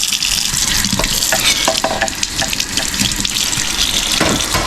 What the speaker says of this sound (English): I'm actually going to go ahead and rinse this container that I had gotten.